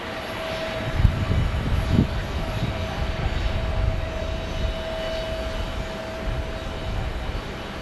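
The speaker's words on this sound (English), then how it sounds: "A321 landing from Las Vegas for American Airlines." An American Airlines Airbus A321 lands at Phoenix Sky Harbor, its engines producing a steady, loud broadband roar with a sustained tonal whine that holds throughout, nearby and without talk.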